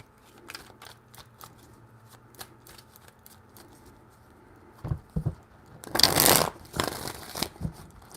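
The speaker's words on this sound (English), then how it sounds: "Three shuffles." Tarot cards shuffled by hand indoors, starting as soft scattered flicks and taps, then building to a louder riffling burst near the end, with no talking.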